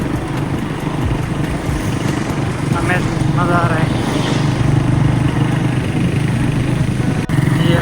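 Motorcycles riding along a smooth road, a continuous engine drone and wind rumble under people talking, with one brief clunk near the end.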